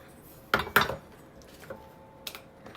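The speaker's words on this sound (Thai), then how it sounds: "รู้สึกว่าเขาจะหั่นแบบไม่ค่อย ละเอียดเท่าไหร่นะคะ หั่นแบบหยาบๆเลย" A knife chops shallots coarsely on a board for a Thai fish sauce chili dip, with two sharp close strikes followed by a few fainter taps amid quiet kitchen background.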